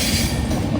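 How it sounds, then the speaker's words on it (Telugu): The Prasanthi Express, running from Vijayawada Junction toward Chennai Central, rumbles past close by with a dense, loud roar of rolling wheels and rail noise, no voices. "ఈ ట్రైన్ వచ్చేసి మన ప్రశాంతి ఎక్స్ప్రెస్ ట్రైన్"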